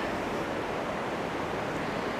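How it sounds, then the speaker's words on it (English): A river flows somewhere below inside a cave, giving a steady, faint, even rushing hiss that never changes and has no voices over it. "There's a river down below."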